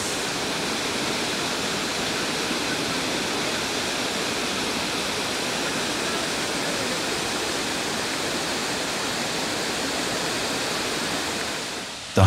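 Water rushing steadily at a waterhole where men wash off sticky honey, a dense even splashing wash that holds constant and close throughout without any voices.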